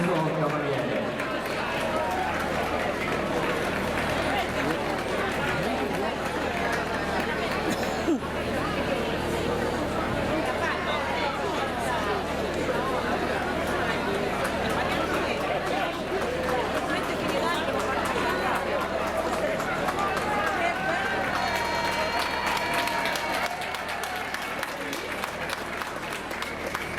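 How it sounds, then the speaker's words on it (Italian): Crowd applauding a horse rider at the Cavalcata Sarda parade in Sassari, Sardinia, continuous outdoor clapping mixed with crowd chatter and speech over a long steady stretch. "L'applauso sottolinea la prodezza di questo cavaliere"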